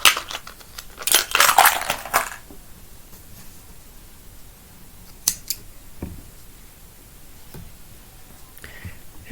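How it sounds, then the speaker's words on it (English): Scissors snip embroidery thread in a few quick, close, crisp cuts and handling clicks, followed by quiet room noise with occasional faint ticks. "And I just snip off that thread."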